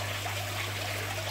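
Water pours and trickles steadily during a shrimp tank water change, a close, continuous splashing wash over a low mains-like hum.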